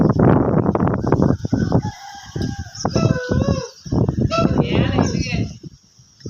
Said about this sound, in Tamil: மயில் அகவுது